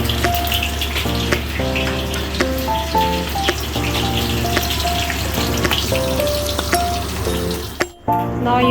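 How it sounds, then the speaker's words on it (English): Cumin seeds sputter in hot oil with a dense, continuous crackle and hiss, close and loud, broken by a sharp clatter near the end. "Let the cumin seeds sputter."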